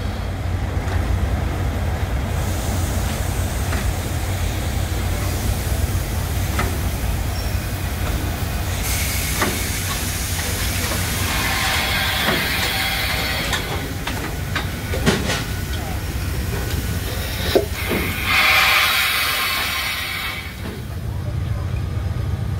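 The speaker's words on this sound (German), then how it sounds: "Hier kommt schon wieder der nächste Zug rein." A steam train pulls into a station at a steam train festival in Beekbergen, a steady rumble of wheels and rolling stock with hissing bursts and brief squeals, close and loud throughout.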